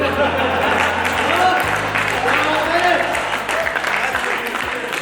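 Audience applause at a Hindi poetry recital, steady clapping from a crowd running throughout, heard under ongoing speech.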